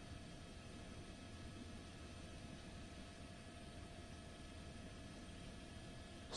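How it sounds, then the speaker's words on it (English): An LA County Sheriff's Department helicopter flies overhead in Los Angeles during a motorcycle police pursuit, giving a faint, steady, distant drone that stays even throughout with no talking. "Their helicopter now joining the pursuit."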